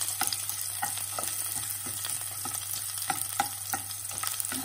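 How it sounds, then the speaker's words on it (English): Chopped garlic fries in a pan with a continuous close sizzle, punctuated by regular scraping stirs of a spatula, with no voices. "Now we have to fry this garlic till it turns golden brown."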